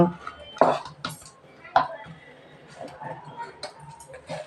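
Pulao rice made with leafy greens is served onto a serving plate, with a few sharp clinks and scrapes of a spoon against dishware under a voice talking.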